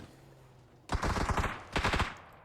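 Rapid pistol fire in PUBG during a competitive scrim, two quick bursts of sharp cracking shots close by, separated by a short pause, with no talk.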